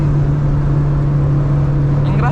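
A 1997 Chevrolet Corsa Wind engine with the accelerator floored, a loud steady drone heard from inside the car, continuous and close, with no clear rise or fall in pitch over the short span.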